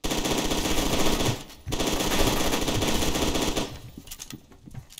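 Sustained automatic gunfire in the shooter F.E.A.R. 2, set in a hospital: loud, close, rapid bursts with a short break, then a long stream that fades into a few scattered shots, with no talking.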